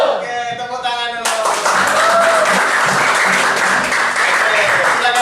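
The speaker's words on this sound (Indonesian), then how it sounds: "Oke, tepuk tangan dulu." A classroom of students claps together on a teacher's cue, a dense burst of applause that starts after a brief moment of voices and carries on steadily for several seconds.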